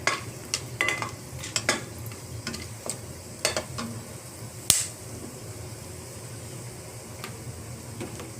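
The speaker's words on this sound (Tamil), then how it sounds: "அதே நெய்யில் பட்டை, கிராம்பு, ஏலக்காய் போட்டுருங்க." Cinnamon, cloves and cardamom fry in ghee for mint rice, giving a faint, steady crackle broken by scattered small pops and a sharper click, with no talking.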